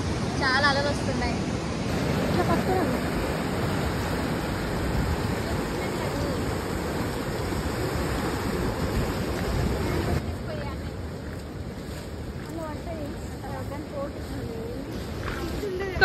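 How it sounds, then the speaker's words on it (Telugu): Ocean waves roll and break continuously on Om Beach in Gokarna, a steady loud surf wash with wind buffeting the microphone throughout, easing slightly in the second half. "చాలా అలలు వస్తున్నాయి."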